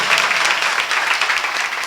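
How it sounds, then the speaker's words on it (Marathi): Loud audience clapping at a kirtan, honoring the two mridang players; dense, even applause close by for the whole stretch, no talking. "2 मृदंगाचार्यांसाठी एकदा जोरात टाळ्या झाल्या."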